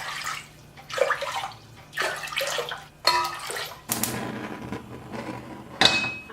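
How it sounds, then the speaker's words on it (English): A cooking pot filling with five cups of water from a tap, heard as uneven splashing gushes that start and stop in short bursts, fairly close with a quiet room behind. "I just filled my pot with 5 cups of water"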